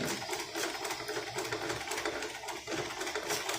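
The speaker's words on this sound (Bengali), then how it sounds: "দেখেন খুব সুন্দর করে সেলাই উঠতেছে" A sewing machine runs continuously while stitching knit T-shirt fabric after a needle change, producing a steady, fast mechanical whir with a rapid rhythmic stitching pulse, close and fairly loud.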